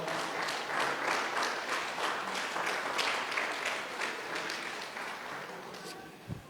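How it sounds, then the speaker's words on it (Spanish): A church congregation claps in praise of the Lord during a Spanish-language service, a dense, steady wash of many hands that holds strong for about five seconds and then thins out toward the end. "Vamos a darle palmas al Señor"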